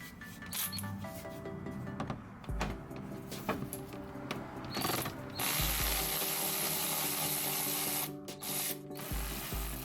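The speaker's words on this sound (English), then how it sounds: "Go ahead and use a 10mm socket right here, and it's going to remove all these bolts." A ratchet fitted with a 10mm socket backing out bolts on a plastic underbody panel of a 2012-2016 Toyota Prius C, with quick clicking bursts, pauses between bolts and some rustling, close and moderately loud.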